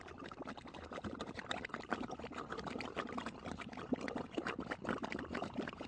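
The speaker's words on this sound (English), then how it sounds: "the mud is actually bubbling up out of there" Mud pot bubbling in a geothermal area, a dense run of wet pops and gloppy bursts, steady and close, with no one talking over it.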